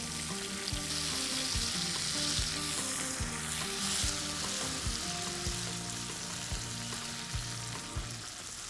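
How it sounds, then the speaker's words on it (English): Urad dal, red chilies, curry leaves and tomatoes frying in hot oil, a steady loud sizzle with crackling pops and a few stirring scrapes, close and continuous with no talk. "To this oil, I'm going to add some urad dal, some red chilies, some curry patta, and tomatoes."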